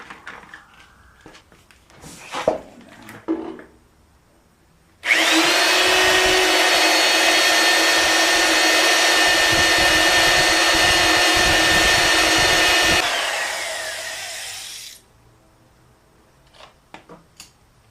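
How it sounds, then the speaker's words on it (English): A power drill bores steel with a fresh bit, running as a loud, steady whine for about eight seconds, then winding down. Clanks and handling knocks come before it and after it, in a shop setting while front spring perches are being located. "See how much better that bit drilled."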